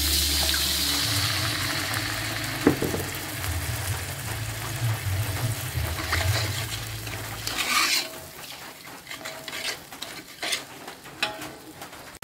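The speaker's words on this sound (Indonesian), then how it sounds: "Setelah itu masukkan air." Water poured into a pan for a spicy shredded tuna stir-fry gives a steady watery rush and hiss for several seconds, then shifts to lighter, uneven bubbling and sizzling, with no talking.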